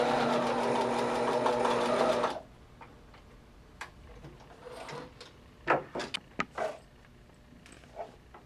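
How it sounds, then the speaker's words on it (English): A sewing machine stitches a seam in knit fabric for a twist headband, running in a fast steady whir for a couple of seconds before stopping, then followed by scattered clicks and handling taps. "If you're going to use a sewing machine,"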